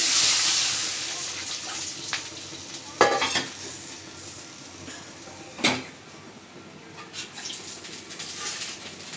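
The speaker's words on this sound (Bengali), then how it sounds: "তো সরিষাটা যাতে কষানো যায় তাই পানি দিয়ে দিলাম।" Water goes into a pan of fried onion and ground mustard spice for a mustard hilsa curry, making a brief splash and hiss followed by a few sharp clinks and stirring scrapes over a soft background sizzle.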